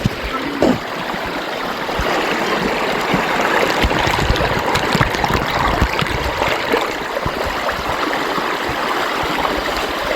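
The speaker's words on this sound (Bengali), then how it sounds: "সাউন্ডটা শোনেন পানি আসার সাউন্ডটা" Stream water rushing past large rocks on the trail to Sitakunda waterfall, a steady loud broadband wash that continues for the whole stretch with no one talking over it.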